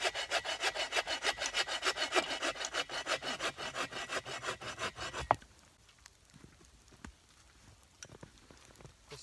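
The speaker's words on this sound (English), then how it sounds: "I'm gonna cut some more firewood" A hand saw cuts through firewood a few inches thick in a winter camp, with steady, rapid back-and-forth rasping strokes that stop abruptly midway, leaving faint scattered ticks and quiet.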